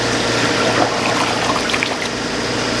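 Water runs into an ice cream machine to rinse it, a continuous rushing pour that stays fairly loud and steady for the whole short stretch.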